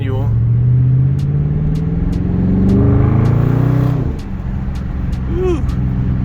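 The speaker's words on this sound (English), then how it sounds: "My car is really loud today," A 2021 Dodge Charger R/T engine drones and climbs in pitch as it accelerates in manual mode, loud from inside the car, with a voice speaking over it.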